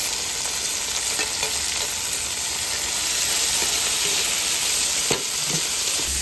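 Vegetables for pancit canton stir-fry in a hot pan with a loud, continuous sizzle and hiss, broken by a few clinks of stirring.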